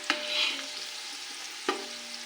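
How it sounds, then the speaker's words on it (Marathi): Dried coconut dry-roasting in a pan, with two sharp spatula scrapes against the metal over a soft, steady hiss, close and fairly quiet. "खोबऱ्याचे काम चांगले भाजून घेते मी."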